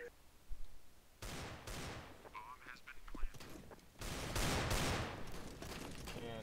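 Rapid gunfire bursts from a competitive shooter video game, with rattling automatic fire and sharp shots that come in dense clusters, fairly close and loud, mixed with other game sounds.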